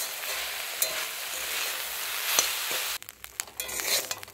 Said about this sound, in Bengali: লবণ হলুদ দিয়ে ভালো করে চিংড়ি মাছটা ভেজে নেব।